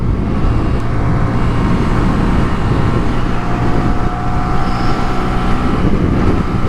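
A Honda Grom motorcycle cruises at the speed limit, a loud, unbroken engine drone buried in heavy wind rush against the microphone, steady from start to finish with no speech.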